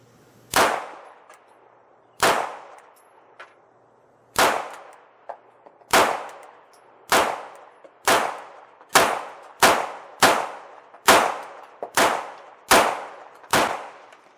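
Pistol shots ring out on steel targets at an outdoor range, each sharp crack followed by a bright metallic clang; shots start slow and widely spaced, then speed up into a quicker steady string, with no talking.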